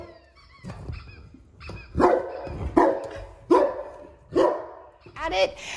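A mastiff barks close by at an interactive dog toy, a handful of sharp barks spaced about a second apart, with some whimpering between them.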